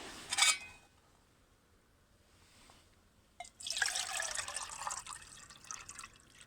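Water poured into a pot for a camping meal in a garden, a short splash followed by a longer steady pour that trickles off near the end, close and fairly quiet.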